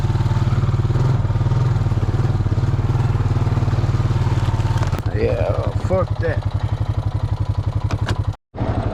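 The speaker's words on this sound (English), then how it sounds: "That's my exhaust tick because it's loose." A loose exhaust ticks on an idling off-road vehicle after hitting a hole. The rapid, even ticking rides over the engine's low throb, and a voice speaks briefly near the end.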